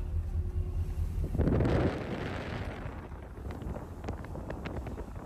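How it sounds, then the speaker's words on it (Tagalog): Strong wind and rough sea waves buffet a fishing boat out at sea: gusty, rushing wind noise over the microphone swells into a loud surge, then settles into a lower, restless roar with faint splashes. "Malakas ang alon, malakas ang hangin."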